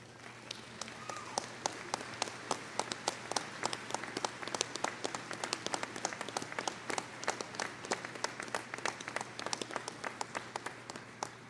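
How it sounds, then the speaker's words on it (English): A large crowd at a university commencement applauds steadily, many hands clapping together in sustained, moderately distant applause. "extend a round of applause to those whose support and assistance have been so important"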